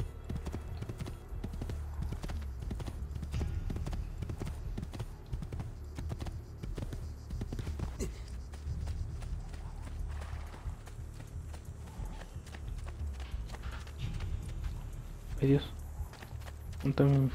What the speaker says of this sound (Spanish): Lo bueno que el caballo sí es rápido.